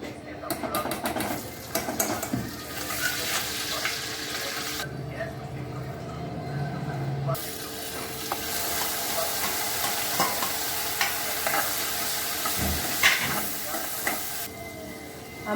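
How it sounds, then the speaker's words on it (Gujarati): A spoon stirs methi matar malai curry, made with fenugreek, peas, oil, butter, cumin and asafoetida, in a frying pan, scraping and sizzling close by under someone speaking Gujarati. "આ જ તવિયામાં હવે આપણે પાછું બધું મિક્સ કરી દેવાનું છે"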